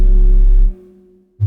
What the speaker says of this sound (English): We have the Korg GR1, which is a gated spring reverb